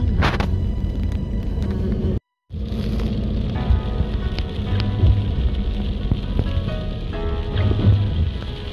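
Steady rain falls outdoors at a relaxing spot, a dense continuous hiss with low rumble, briefly cut to silence for a moment before resuming at a constant level.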